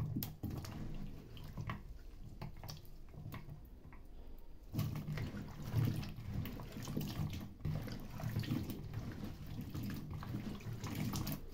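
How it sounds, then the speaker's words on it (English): Cut potatoes are washed by hand in water for homemade french fries: close splashing, sloshing and clattering in a bowl, soft at first and then busier and fuller, with no talking. "So after cutting them, I'm going to wash them nicely."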